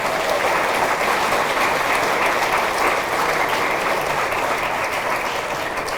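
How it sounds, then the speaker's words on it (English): A crowd at a high school athletic hall of fame ceremony claps in a continuous, loud, even wash of applause that holds steady throughout. "Let's give them a big round of applause."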